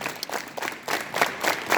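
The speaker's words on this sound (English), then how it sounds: "Clap together." A school assembly of students claps together in a few rhythmic bursts, the group claps close and fairly loud with brief gaps between them.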